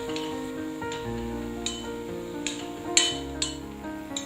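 Garlic frying on a low flame, a soft steady sizzle beneath a faint hum, with several light clinks and taps of a utensil against the pan.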